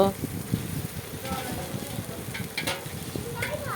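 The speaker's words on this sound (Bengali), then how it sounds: "দেখো মাছগুলো মশলার সাথে সব একসাথে দেওয়া হয়ে গেল" Boal fish added to spices in a pan, sizzling and frying with stirring scrapes, while a person talks over the cooking.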